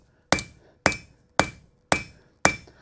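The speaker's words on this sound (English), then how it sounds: "I'm moving the metal back to get the position of where I want the hammer to strike" Blacksmith's hammer striking hot metal at a forge, five sharp ringing blows at an even, unhurried rhythm, each a loud close clang that rings briefly and decays before the next.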